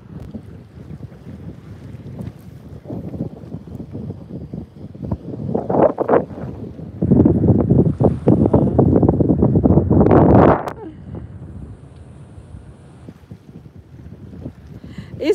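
Strong wind on a seashore buffets the microphone in loud, rough gusts, building to a sustained roaring blast midway before easing back to a lower rumble.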